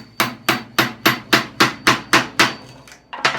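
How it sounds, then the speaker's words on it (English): A wood chisel is struck to knock cut pieces out of a wooden wine rack and glass holder, giving about ten sharp, evenly paced knocks that ring briefly, then a short pause before one more, loud and close. "I'm going to use just a wood chisel and get those pieces out."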